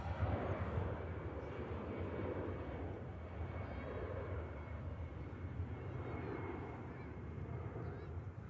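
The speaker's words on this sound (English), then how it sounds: "off she goes, the Airbus A320 with the CF 56 engines" An Airbus A320 with CFM56 engines takes off at Manchester Airport, its broad jet roar sustained and fairly distant, rising and falling slightly across the whole stretch with no talk over it.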